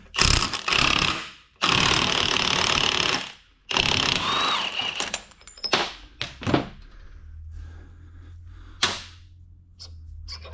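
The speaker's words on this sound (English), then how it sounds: "we're going to remove this 32mm nut right here." Ratchet wrench removing a 32mm nut from a Jeep Trackhawk front differential, heard in several long bursts of rapid clicking with pauses between them, followed by a few sharp knocks and metallic taps, close and fairly loud.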